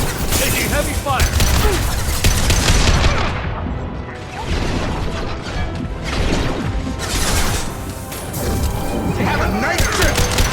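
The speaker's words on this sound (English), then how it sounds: "Taking heavy fire!" Heavy gunfire rages in Mass Effect 2 combat, loud dense bursts and impacts crashing continuously for ten seconds with only a brief dip, voices calling out beneath the din.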